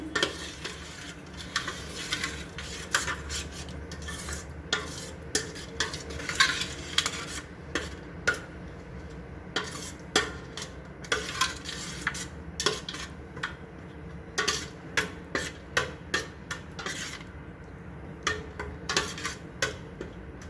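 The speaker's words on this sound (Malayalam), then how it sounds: "നന്നായി ഇളക്കി കൊടുക്കണം." Puliyinchi, a thick Kerala tamarind-ginger relish, is stirred in a pot with a spoon that repeatedly clacks and scrapes against the metal in an uneven rhythm, over a soft background sizzle with no voices.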